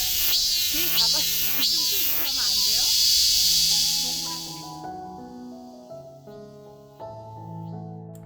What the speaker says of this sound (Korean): 오 바로 옆에 있었어 매미가